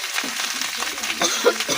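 Rice fries in a pan with a brief, steady, close sizzle and soft stirring scrapes.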